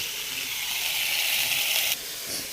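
Cumin seeds sizzle in hot oil in a steady, loud, close hiss that drops slightly in level near the end, with no voices.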